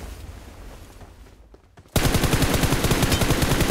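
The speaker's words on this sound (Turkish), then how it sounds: "Ben silah sesine geldim çünkü." PUBG Mobile gunfire: after a stretch of quieter ambient game sound, a loud, sustained burst of rapid automatic fire erupts and keeps hammering steadily to the end.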